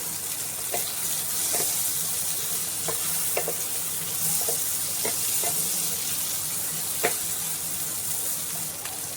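Chunks of onion, ginger pieces and garlic cloves fry in hot oil for a prawn curd curry, giving a steady close sizzle broken by regular light clicks and scrapes of a spatula stirring the pan.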